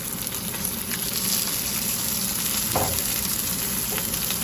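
A fluke fillet fries in olive oil in a hot pan, a steady bright sizzle and crackle continuing evenly throughout, close and loud, with a couple of soft clinks.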